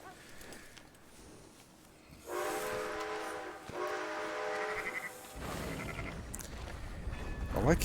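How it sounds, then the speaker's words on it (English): Train whistle in Red Dead Redemption 2, a harmonic tonal blast starting around two seconds in, briefly interrupted then resuming for a few seconds, moderately loud over ambient game noise, followed by rumbling train motion. "I like hearing that train and seeing it."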